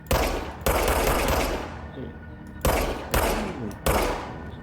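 Gunfire in the video game Control: loud, close bursts of rapid shots in several separate volleys, each ending in a ringing tail before the next burst.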